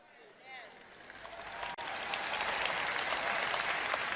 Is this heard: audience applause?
yes